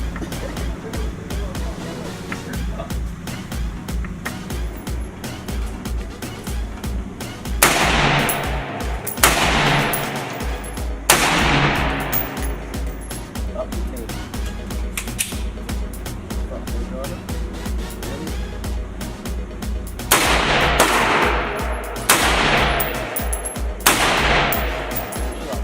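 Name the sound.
gunshots at a shooting range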